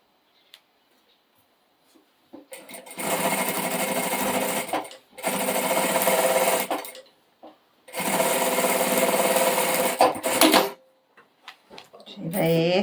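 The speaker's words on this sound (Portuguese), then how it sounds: "E bora costurar." A sewing machine stitches a small flowered fabric bag in three loud, steady runs of about two seconds each, with short pauses between them and a voice heard near the end.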